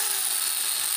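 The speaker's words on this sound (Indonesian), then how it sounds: "kita pakai flap disc. Flap disc ini amplas tumpuk" A blue flap disc on an angle grinder sanding a Bowie knife blade made from heavy-equipment bearing steel, a loud steady high-pitched abrasive hiss and whine without a break.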